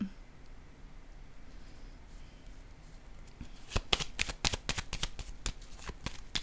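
Playing cards are handled, with soft rustling at first and then a quick run of crisp, close snaps and flicks as cards are shuffled and laid down, with no talk.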